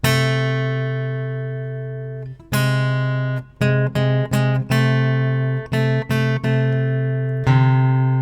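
Sustained, bright electronic tones sound two-note intervals, held and re-struck several times in a steady sequence, with no talking.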